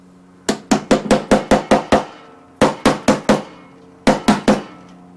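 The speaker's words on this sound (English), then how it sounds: "Then I'm going to take a brass hammer." Sharp metallic brass hammer taps on a bearing being seated in an Exmark 30-inch mower, in three quick bursts of about eight, six and four strikes, close and ringing, with short pauses between.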